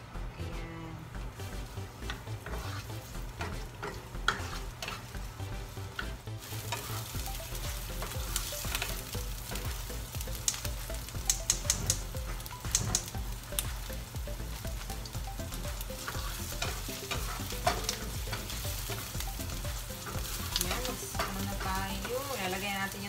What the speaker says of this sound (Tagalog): Tapos ipa-brown natin kunti yung garlic.